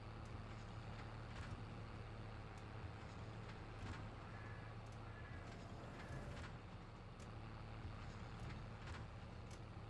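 A tractor engine in Farming Simulator 22 drones at a steady low pitch throughout, a continuous near rumble with faint intermittent clicks and no voices over it.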